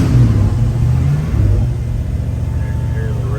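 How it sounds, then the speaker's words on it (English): A 1966 Ford Bronco engine fitted with Holley fuel injection turns over by push-button start and settles into a loud, steady idle rumble, with a brief rev at the start before easing down. "We'll start it up here. Put the Holley fuel injection in."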